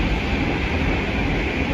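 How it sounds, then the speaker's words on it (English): A train thundering through on the West Coast Main Line, a close, loud, continuous rumble of rolling wagons with no break. "the West Coast Main Line is right there and the trains just go thundering through"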